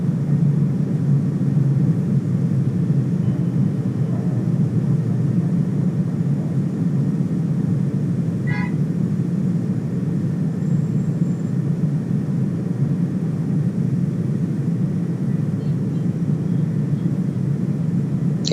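A Cessna Citation X business jet climbing in the X-Plane Mobile flight simulator, a steady loud low engine rumble with constant broad roar and no break in the sound.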